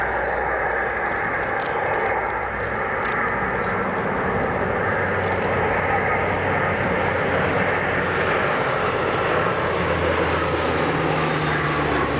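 Aircraft in US Navy service since 1962 flying past with undercarriage down at an RAF Cosford airshow, its steady engine roar loud and sustained throughout with no talk.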